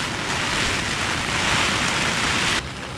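Heavy rain pours steadily on the frozen surface of Lake Hibara during ice fishing for smelt, a dense, even hiss that drops off slightly near the end.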